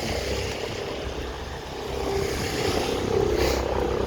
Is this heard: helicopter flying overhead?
yes